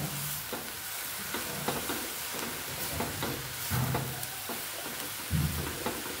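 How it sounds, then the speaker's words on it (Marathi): Cabbage and capsicum for veg spring roll filling stir-fried in a pan, a steady sizzle with repeated scraping strokes of a spatula at an even rhythm, close and moderately loud, no talking. "पुन्हा एकदा ही भाजी परतून घेऊ आपण।"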